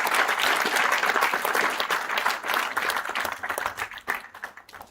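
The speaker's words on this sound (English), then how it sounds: "So clap for the faculties as well." Thick applause from a crowd at an IIM Amritsar inauguration ceremony, honoring the faculty, rolls steadily for several seconds before thinning and tapering toward the end.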